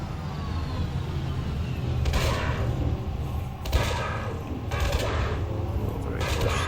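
Shard cannons firing from a ship in the space combat game Elite Dangerous, heard as several bursts of roughly evenly spaced, booming shots over a steady low engine rumble.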